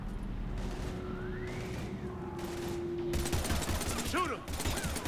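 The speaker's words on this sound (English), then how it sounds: "We're taking heavy fire." Heavy gunfire in the game Mass Effect 3, a dense rattle of bursts that starts partway through and keeps going, with engine hum and shouting voices mixed in.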